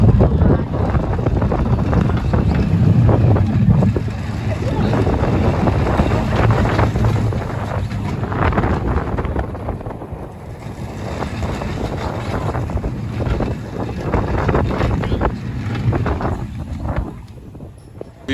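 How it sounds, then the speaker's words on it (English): On the Turtle and Rabbit Race dueling family roller coaster at Lewa Adventure in China, loud wind rushes and buffets the microphone throughout the ride, with low rumble underneath and surges that rise and ease. "It's now time for a ride on Turtle and Rabbit Race."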